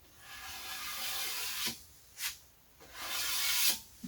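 A scraper drags old finish off a piece of wood furniture in raspy, hissing strokes, each pass a sustained scratch broken by short pauses, close and fairly quiet with no talking.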